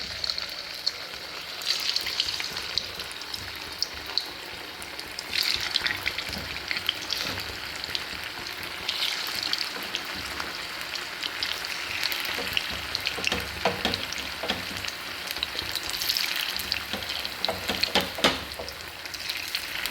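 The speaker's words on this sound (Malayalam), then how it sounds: "എണ്ണ കാഞ്ഞിട്ട് ഗോബി ഇത് മിക്സ് ആക്കിയിട്ട് ഇടണം" Cauliflower coated in a sauce mix of tomato ketchup and soy sauce fries in hot oil for gobi manchurian, a close, crackling sizzle with irregular popping bursts that rises and falls throughout.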